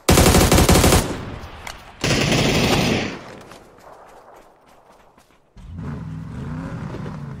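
Loud automatic gunfire rattles in a shooting video game. A long burst fires, then a second burst, and after a quieter stretch another bout of fire begins.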